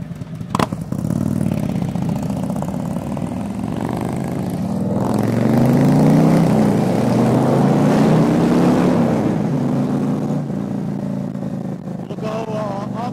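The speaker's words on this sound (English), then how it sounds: "starting the ride, five bikes." Five Harley-Davidson Electra Glide motorcycles set off on a Sunday morning ride, engines droning loudly up close with rising and falling revs and a steady low rumble throughout.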